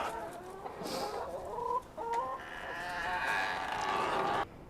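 An aggressive hen clucking loudly and agitatedly nearby, a run of sharp, choppy clucks and squawks over faint farmyard background.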